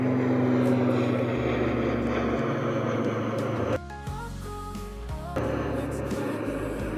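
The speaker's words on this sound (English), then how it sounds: "And that's another ATR." An ATR turboprop airliner passes by with a broad, steady propeller-engine roar and a droning low hum, loud throughout, with a brief drop in level partway through.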